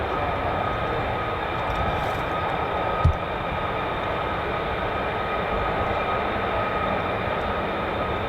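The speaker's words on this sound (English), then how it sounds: "We do have certainly an F-35 taxiing down the catwalk." F-35 fighter jet taxiing at an RAF base with the US Air Force 48th Fighter Wing, heard as a steady, loud broadband engine roar with a constant whine, holding level throughout with one brief thump partway.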